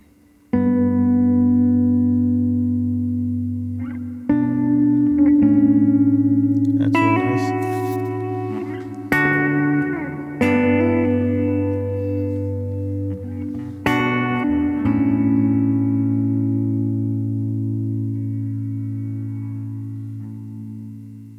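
Clean electric guitar chords ring out one after another through a TC Electronic Hall Of Fame reverb pedal on the hall setting with long pre-delay, each washed in a long, spacious reverb that lingers and slowly fades.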